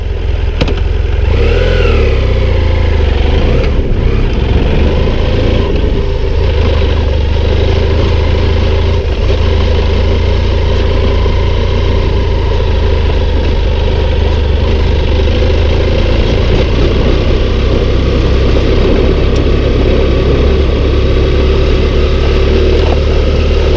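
A trail motorcycle idles and revs steadily at the foot of the off-road climb to Col du Parpaillon, its mid-pitched engine loud and close for the whole stretch.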